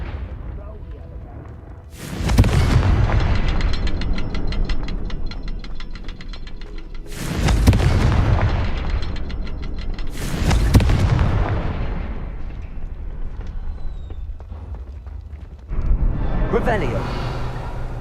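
Confringo fire spell blasts in Hogwarts Legacy on PS5, four loud booming explosions with crackling debris tails, spaced a few seconds apart, over continuous game ambience and a voice casting spells.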